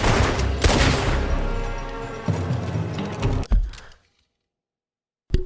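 Lancaster rifle fire in Red Dead Redemption 2 comes as loud, dense cracks layered with mechanical clatter, followed by a sudden silence and then one more sharp shot at the end.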